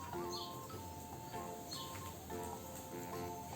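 Small birds chirp outside a window, light scattered tweets at a soft distance over a steady hum, with no speech in the moment.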